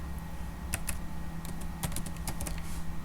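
Rapid keystrokes on a computer keyboard while a SQL select command is typed, several clustered taps close to the microphone over a low steady hum, with no voices.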